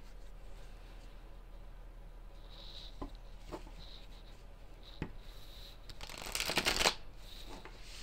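An oracle card deck with a Moonology theme is shuffled up close and quietly, with scattered soft taps and flicks, then a brief dense riffle of cards near the end.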